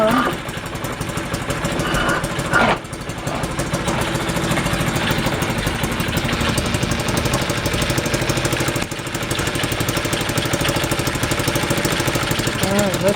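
A 1947 Elgin outboard motor runs steadily and loudly close by, a continuous rough mid-pitched drone with a brief dip early on.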